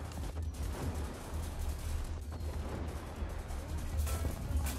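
Tunguska anti-aircraft vehicle's quad 30mm cannons firing in a video game, a dense continuous roar of rapid booming shots held without pause, loud and close throughout.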